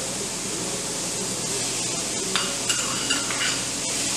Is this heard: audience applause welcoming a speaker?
no